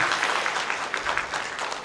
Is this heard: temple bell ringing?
no